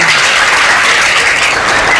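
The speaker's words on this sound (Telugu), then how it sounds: "వాళ్ళందరి కోసం ఒకసారి చప్పట్లు కొట్టండి మీరు." A gathering of people at a dargah and masjid event claps for the committee, producing dense, loud, continuous applause that fills the whole moment with no voices over it.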